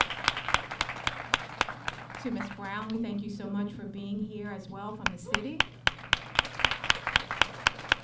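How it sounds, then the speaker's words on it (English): Scattered audience clapping at a 2017 graduation ceremony, sharp individual claps repeating steadily throughout while a speaker talks over them near the microphone. "Yes, please give her a round of applause."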